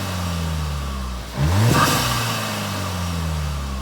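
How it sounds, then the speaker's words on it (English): Heard from inside the cabin of a tuned Mk7 VW Golf GTI Clubsport S with a RacingLine upgrade: a steady engine drone, then one brief rushing whoosh as turbo boost dumps midway before the hum settles again. "you can hear the boost dumping as well, but it's inside the car"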